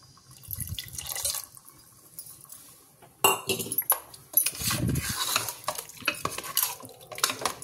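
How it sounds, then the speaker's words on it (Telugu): Water poured into chicken masala gravy in a cooking pot, heard as a splashing pour followed by clinks and scrapes of a utensil against the pot, close by with quiet gaps between sounds. "కొద్దిగా వాటర్ వేసుకుందామండి."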